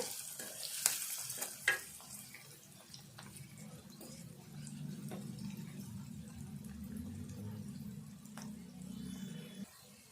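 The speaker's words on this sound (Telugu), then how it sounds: "కలుపుకుందాము కొంచెం ఈ ఉల్లిపాయ అంతా దగ్గరికి రావాలి" Onions with a pinch of turmeric are stirred as they fry in a pan for a dried prawn curry, a quiet, soft sizzle with a low steady rumble and a couple of sharp scraping clicks near the start, and no talking.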